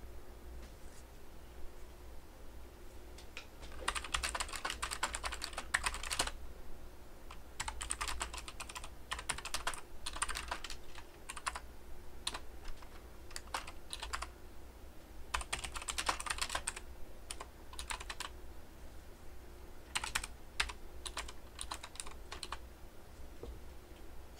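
Computer keyboard typing during a Roblox game session comes in repeated bursts of quick clicking keystrokes separated by pauses, close and moderately loud over a low steady hum, with no speech.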